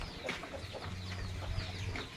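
Brown layer hens and young chicks cluck and peep faintly on a Philippine poultry farm, soft scattered calls under a constant low background hum.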